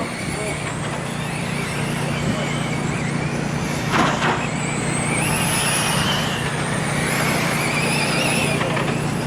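Race cars run laps at the Toledo race track during a TARCAR main event, a steady loud engine roar with passing whooshes, while an announcer talks over it.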